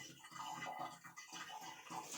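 Water running through a Redring Mazuma 6000 watt electric water heater whose pressure switch fails to engage, a soft continuous rushing flow with slight pulsing, close and low in level.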